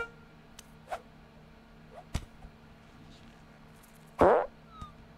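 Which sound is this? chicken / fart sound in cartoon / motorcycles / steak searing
fart sound in cartoon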